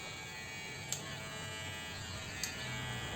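An electric hair clipper buzzes steadily and close during a self-administered burst fade haircut, holding one continuous drone with two brief clicks as the blade passes through hair.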